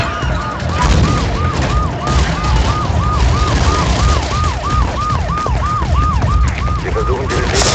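Police car siren from a PS3 video game, a loud, steady wailing cycle repeating about every half second for the whole stretch, over dense game noise and rumble.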